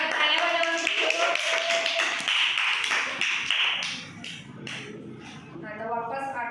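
A burst of group clapping, many hands tapping in a quick irregular patter for a few seconds, with voices chattering alongside.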